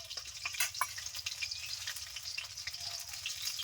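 Batter-coated cabbage fritters frying in oil, a quiet steady crackling sizzle with a few sharp pops and spatters, close but low in level, no voices.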